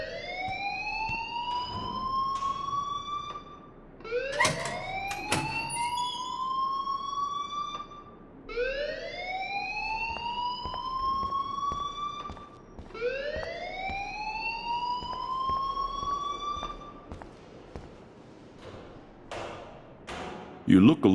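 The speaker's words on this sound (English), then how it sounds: "please turn off that alarm since that's your job" An alarm sounds in the video game Life is Strange: four rising, siren-like wails repeat in a steady cycle, each a few seconds long, with faint talk and background noise under them.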